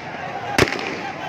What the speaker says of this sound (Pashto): چونکې ډزې هم شروع دي او روډ یې بند کړی دی.